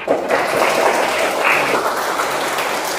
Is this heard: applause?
yes